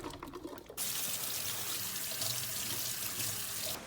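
Brownie ingredients rinsed under a kitchen tap: after a short quieter start, the faucet opens into a strong, steady rush of running water that continues close and loud.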